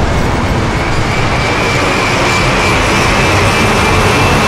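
Fast vehicles such as planes and cars rush past in a loud, continuous broadband roar, steady and close throughout, with a faint whine riding on top.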